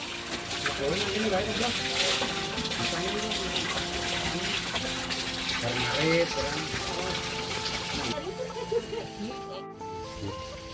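Hands being washed under running water in a village bathroom fed by mountain spring water: a continuous close splash and gush of water that stops near the end, with faint voices in the background.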